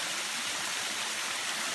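A waterfall in Costa Rica pours in a steady, dense rush of falling water, continuous and fairly loud with no other sounds.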